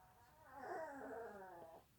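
Puppies in the background letting out one drawn-out, wavering whine or yowl that rises and then fades over a couple of seconds, fairly faint and somewhat distant.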